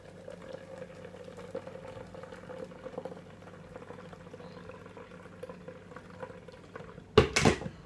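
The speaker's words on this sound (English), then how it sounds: "Strain it out in the strainer." Homemade Jamaican carrot juice straining through a strainer, a quiet steady trickle and bubbling of liquid, ending in a brief louder clatter or splash.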